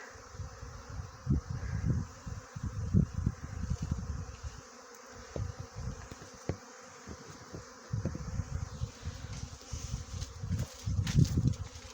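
Honeybees on a strong cleansing flight at a winter apiary on January 1 make a dense, continuous buzzing that swells and dips. Individual bees pass close by against the steady hum of the swarm.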